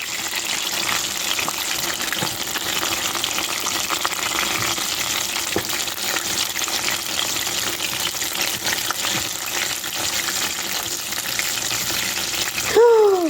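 Homemade pea samosas fry in hot oil in a pan, giving a steady, dense crackling sizzle that runs throughout at close range, with a brief sharper burst near the end.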